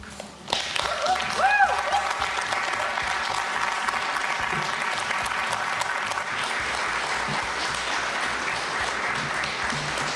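An audience applauds at the close of a motivational talk. A thick wash of clapping rises and fills the room, with a brief whistle near the start and faint voices mixed in.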